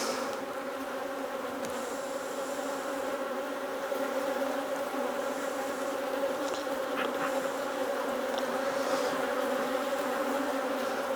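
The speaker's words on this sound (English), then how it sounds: "they just fly up and they're all around the veil at the moment" Honeybees from a feisty hive swarm around a beekeeper's veil, making a continuous close, droning buzz with individual bees whining past now and then, steady for the whole stretch.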